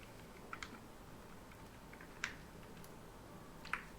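Sparse, faint keystrokes on a computer keyboard tick out over a low steady background hum, a few isolated clicks spaced across a few seconds rather than continuous typing.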